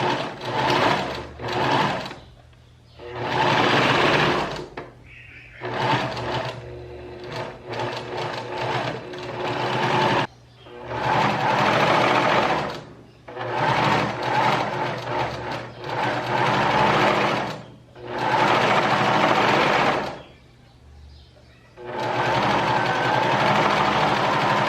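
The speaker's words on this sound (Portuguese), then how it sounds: "máquina doméstica, eu vou passar o zigue-zague mesmo" A domestic sewing machine runs a zigzag stitch across a blouse's neckline edge in repeated loud bursts of rapid mechanical whirring, each separated by a brief pause, heard close and alone.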